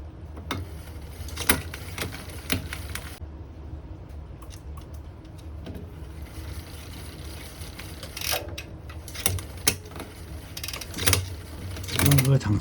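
A SRAM GX Eagle AXS wireless electronic rear derailleur steps through small adjustments on a bicycle while its pairing button is held. Close, short mechanical clicks and brief gear whirs recur irregularly over steady background noise.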